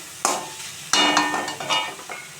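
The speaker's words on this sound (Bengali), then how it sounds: "তো আমি এখন এটা এই কালো জিরে কাঁচা লঙ্কা দিয়ে একটু ভাজা করে নেব" Nigella seeds and green chillies hit hot oil in a pan with a few sharp crackling bursts. Sizzling and spitting comes in short clusters, close by and fairly loud, with no talk.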